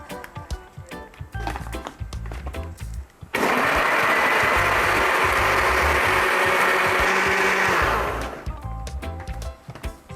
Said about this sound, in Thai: เดี๋ยวเราก็จะปั่นให้ละเอียดเลยนะคะ